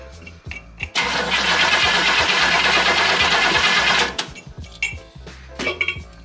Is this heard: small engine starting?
yes